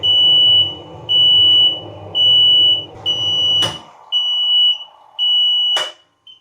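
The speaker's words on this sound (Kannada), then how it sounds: "ಇದೀಗ ಬೀಪ್ ಶುರು ಆಯ್ತು ನೋಡಿ ಬೀಪ್ ಆಗುತ್ತೆ ಆಮೇಲೆ ಆಟೋಮೆಟಿಕ್ ಆಫ್ ಆಗುತ್ತೆ" A portable mini washing machine's timer beeps in a steady series of six long, loud tones evenly spaced, with a low motor hum that cuts off partway through as it switches off automatically.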